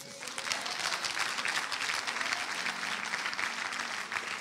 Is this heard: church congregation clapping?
yes